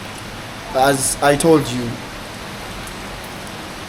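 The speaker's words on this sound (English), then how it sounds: "you see here in Thailand, when it is raining" Steady rain falls in Thailand, an even broadband hiss that continues throughout while someone speaks briefly over it.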